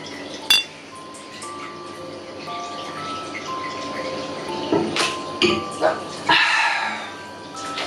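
Glasses clink together in a toast while bathing in a fifty-year-old Japanese house's bathtub; a sharp clink is followed by a few quick knocks and a splash over a steady room hum.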